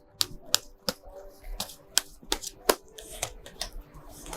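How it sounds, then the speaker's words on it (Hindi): Three tarot cards being drawn and laid down, giving a series of sharp, crisp card snaps and flicks at an uneven pace, close and fairly quiet, with no talking. "निकालते हैं 3 कार्ड्स।"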